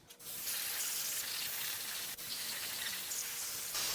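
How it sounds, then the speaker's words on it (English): A steady spray hisses over a BMW N20 2.0L oil pump part from a 2014 328i engine during teardown, a close continuous jet with a short break midway and a slight surge at the end. "Let's get this sprayed off so we can take a look at its condition."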